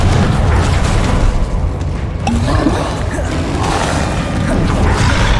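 Loud, continuous crashing and rumbling explosions from spells in Hogwarts Legacy, a dense blast of booming impacts that fills the whole stretch without pause.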